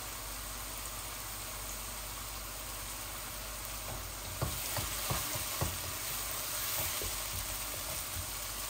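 Onions sizzle steadily in a hot pan while a chicken-breast and vegetable biryani is being started, a constant close frying hiss broken near the end by several clattering stirs of a utensil.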